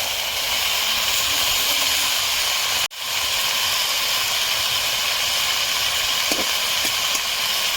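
Previously fried fish going into a hot pan of fried onion leaves, giving a loud, steady sizzling hiss that fills the whole clip, cut by one brief dip in the middle.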